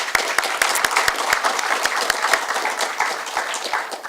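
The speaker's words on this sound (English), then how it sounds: "Let's give her a big round of applause." An audience applauds at a transportation summit, many hands clapping with sharp individual claps standing out above a steady patter, moderately loud and unbroken.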